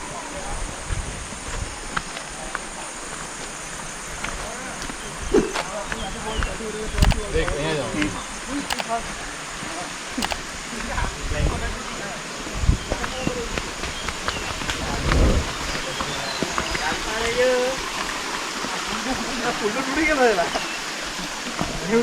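Koshmal waterfall (Bigu Dhodh), the highest waterfall in Gujarat, sends out a steady broadband rush of falling water that carries on without a break, with faint scattered background sounds mixed in.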